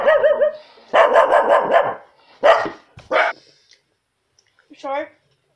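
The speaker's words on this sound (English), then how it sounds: "My dog started barking, so I had to put him outside." A pet dog barks in a short loud burst of several rapid barks, followed by a few separate yaps and a whimper trailing off, with the last bark well apart.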